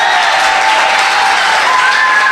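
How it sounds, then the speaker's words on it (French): Audience applause after a concert, a dense, steady wash of clapping heard up close at an even level throughout, with a faint sustained tone running beneath it. "une très bonne main d'applaudissements pour Alfredo et pour Claudia"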